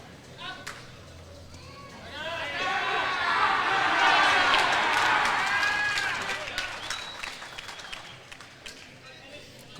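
A lawn bowls crowd at a premier division pennant grand final swells into cheering and applause, building to a loud peak midway before fading back, with a commentator's voice faintly over it.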